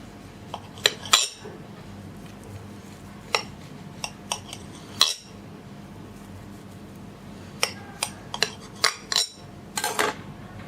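Knife slicing through a soft, freshly baked Bangladeshi bakery-style Ovaltine cake, with scattered clinks and taps of the blade against a plate or pan, spaced irregularly over quiet room tone and growing denser near the end.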